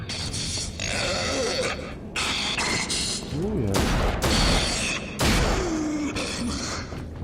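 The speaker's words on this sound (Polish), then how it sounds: "Dwa niecelne strzały." Gunfire in the video game Rage: loud, harsh bursts of shots in several blocks, with groaning and grunting creature voices between them.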